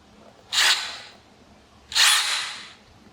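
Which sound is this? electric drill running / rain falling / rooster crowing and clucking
electric drill running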